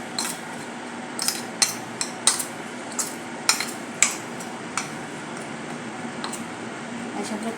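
Spice powders and salt being stirred together in a bowl with a spoon, giving several short, sharp metallic clinks and scrapes spread irregularly over a quiet kitchen background.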